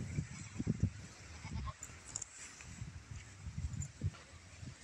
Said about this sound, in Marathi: आमचे शेळी काय करायला लागले बघूया.